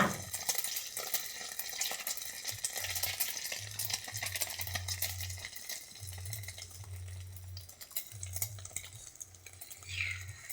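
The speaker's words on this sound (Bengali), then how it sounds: "একটু ডিমের ঘোলাতে নিয়ে, মানে ডিমটা ফেটে নিয়ে তার মধ্যে চুবিয়ে নিয়ে তেলে ভাজবো" Egg-dipped soybean chops fry in hot oil, giving a steady close sizzle and crackle with a low intermittent hum beneath.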